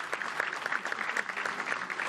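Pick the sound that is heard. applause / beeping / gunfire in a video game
applause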